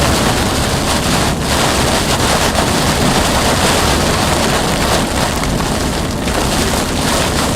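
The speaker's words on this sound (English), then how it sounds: "we're in very, very heavy rain." Very heavy rain pounds down steadily during a tornado chase in Arkansas, a loud, dense and unbroken roar that holds through the whole stretch with no voice over it.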